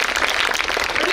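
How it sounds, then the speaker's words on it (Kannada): Brief, dense applause for school children at a school event, a short burst of crowd clapping heard up close, with voices partly mixed in. "ಕ್ಲಾಪ್ ನಿಮಗೆ ಚಪ್ಪಾಳೆ ಜೋರು."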